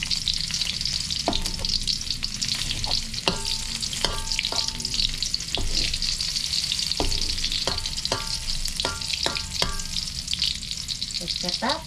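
Garlic sautéing in hot oil gives a steady close sizzle with repeated sharp clicks and scrapes of stirring spread through it, no voices.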